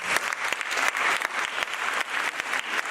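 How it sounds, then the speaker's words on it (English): An audience at a Falling Walls Lab science event in Cape Town claps for the participants. The applause is dense and steady, with no voices over it. "And one round of applause for our participants."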